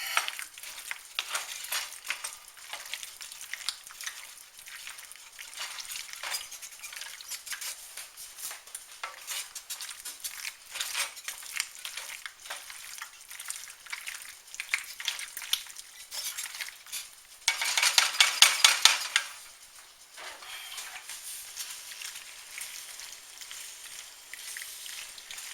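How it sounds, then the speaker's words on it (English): A garlic alfredo shrimp bake mixture is stirred with a utensil, giving steady scraping and soft clinks against the dish, with a louder, busier burst of stirring near the end and no talking. "you're just going to stir all this up"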